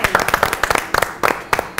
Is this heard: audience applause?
yes